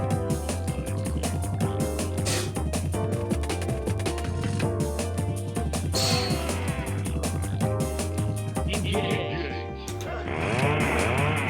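A chainsaw sound effect from a Mugen fighting game drones loudly and steadily throughout, with rapid buzzing pulses layered over a dense background.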